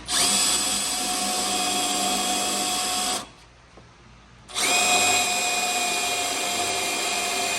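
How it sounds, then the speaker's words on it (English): A power drill with a universal bit whines steadily at high speed starting a hole for a Jeep Wrangler tailgate table install, stops for about a second, then starts up again and keeps running loud and close. "We're going to start off with like a universal drill bit first, just to start the hole."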